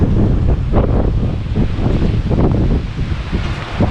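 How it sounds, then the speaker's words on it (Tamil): Strong wind roars and buffets the microphone in loud, uneven gusts on the New Pamban Bridge, a rough rumbling rush with no voices. "இன்னைக்கு காற்று ரொம்பவே பலமா வீசிக்கிட்டு இருக்குங்க பாலத்துல"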